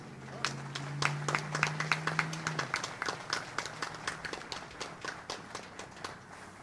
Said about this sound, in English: Ladies and gentlemen, a round of applause for today's official party